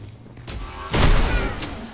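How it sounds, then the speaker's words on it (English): Shotgun blasts from the video game Destiny: a first loud, broad burst followed by a heavier, longer blast that rings out over a second, with a short sharp crack near the end and low game ambience underneath. "What kind of shotgun does he have?"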